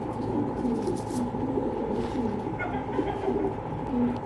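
Pigeons coo in a low, repeated rhythm close by, a steady warbling murmur that carries through the whole stretch over a loft's background hum.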